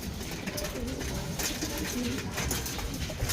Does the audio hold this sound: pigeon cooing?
yes